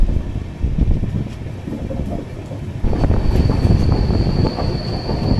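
Coimbatore–Hisar AC Express pulling out of Shoranur Junction, wheels rumbling and clattering on the rails and building up after a few seconds, with a thin high squeal joining midway, close and steady.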